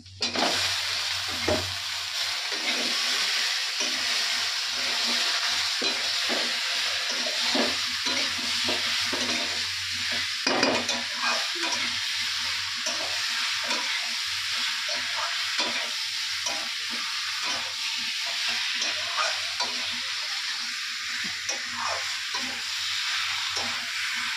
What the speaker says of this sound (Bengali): ভাজা হয়ে গেছে, মাংসটা আমি দিয়ে দিই।